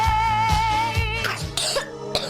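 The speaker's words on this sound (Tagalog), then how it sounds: "Ubo ng anak, nakababahala, baka plema." A child coughs in a chesty, phlegmy way in a Filipino radio advert for a children's lagundi cough syrup, several short coughs in a close, loud series with no talk.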